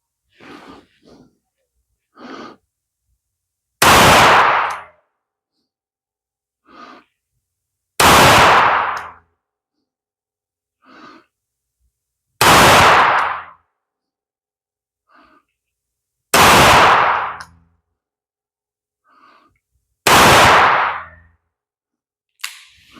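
Five loud, sharp Taurus revolver shots fired single action, spaced roughly four seconds apart, each close and abrupt, with faint breaths and soft movements between them.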